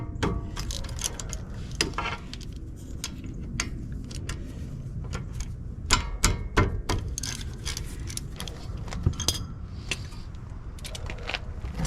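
A wrench works loose 12mm nuts on the rear brake caliper bracket of a Chevy Colorado or GMC Canyon, giving repeated sharp metallic clicks and ratcheting taps with short pauses between them.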